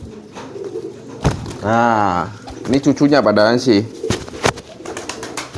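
A dove coos in a rising and falling, repeated call at close range, with someone talking over and between the calls.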